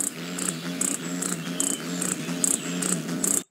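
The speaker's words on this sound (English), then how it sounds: "you hear a lot of the buzzing on their wings" Hummingbird wingbeats make a continuous low buzzing drone, with bright high-pitched chirps repeating about every half second over it.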